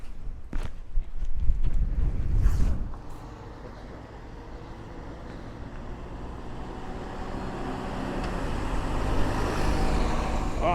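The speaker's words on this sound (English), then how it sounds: "Oh, the X6 bus has just come past, and a bit of nerdy Mark 1 Optare action, I think that is." An X6 bus, a Mark 1 Optare, passes by at night in Grange-over-Sands: a loud, close engine rumble swells in the first seconds, then fades away into a steady, quieter roadside hum with some wind noise.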